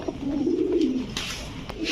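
A pigeon coos at close range, one rolling low call swelling and fading, with market bustle and other birds faintly behind at a pigeon market.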